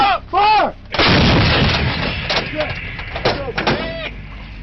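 Ukrainian artillery fires in loud, close booming blasts, the first few sharp and punchy followed by a long rumbling roar, with shouting voices over the firing.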